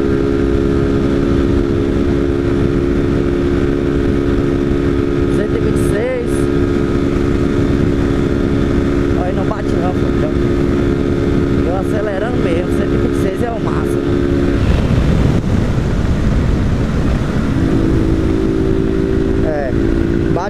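A Honda Fan 160 motorcycle with a 310 exhaust drones loudly and steadily while riding at night, the pitch rising and falling with throttle changes, and someone talks over it.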